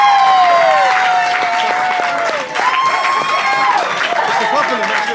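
Wedding guests at the speeches give a sustained round of applause for the father of the bride, a dense crowd of clapping filling the room throughout, with a voice talking over it.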